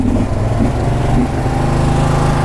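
Close, loud steady drone of an OREC RMK160 23 HP riding lawn mower engine running at raised speed outdoors, holding an even pitch with slight pulsing throughout.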